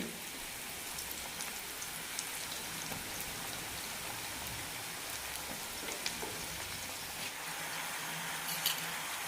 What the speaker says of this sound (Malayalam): ബാക്കിയുള്ളത് കൂടി വറുത്തെടുക്കാം